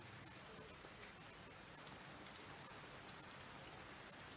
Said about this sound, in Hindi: बारिश कहीं पर राहत और कहीं पर आफत बनकर के बरस रही है